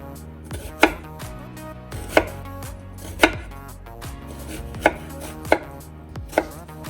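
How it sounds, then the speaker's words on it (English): Knife chopping through an onion on a cutting board, about seven crisp, evenly spaced knocks at a steady pace, close and clear with no talking. "Cut our onion in half."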